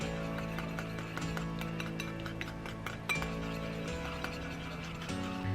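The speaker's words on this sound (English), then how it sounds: "This is 3 egg yolks right here, and I'm just going to give them a good whisk together." Three egg yolks are whisked together in a bowl for homemade ice cream, producing rapid, uneven metallic clinks and ticks over a faint steady hum.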